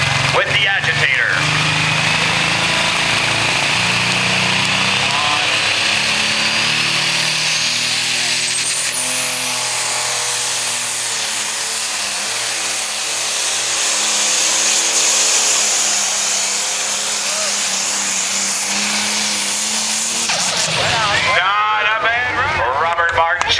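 A John Deere pulling tractor roars at full throttle at a tractor pull, its engine note climbing steadily for about twenty seconds before cutting off, with an announcer's voice over the din.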